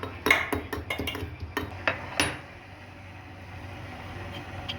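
Fresh ginger pounded for ginger tea in a home kitchen: a fast run of sharp, close metallic knocks for about two seconds, thinning out into quiet room hum.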